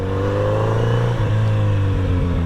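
Stock Kawasaki Z900RS motorcycle being ridden on a sunny day, its engine humming steadily and close up with a smooth rising pitch as it accelerates, no talking.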